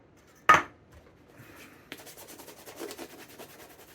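A cloth soaked in thinner rubs the uppers of an Allen Edmonds leather dress shoe at a repair bench, starting with one sharp knock and then making soft, quick, rhythmic rubbing strokes close by.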